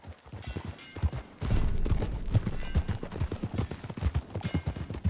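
Hoofbeats of a horse ridden in the Red Dead Redemption 2 game, a steady clip-clop rhythm mixed with game ambience and occasional bursts; no talk over it.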